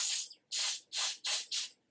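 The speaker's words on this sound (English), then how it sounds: "I shake it up again and I'm going to spray the sponge." Four or five short hissing bursts from a Dior Airflash spray foundation can spraying onto a sponge, evenly spaced and close, with brief silences between them.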